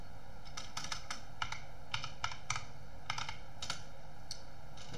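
A password is typed on a computer keyboard: a quick run of light, close key clicks in short uneven bursts over a faint steady background hum, with no voices.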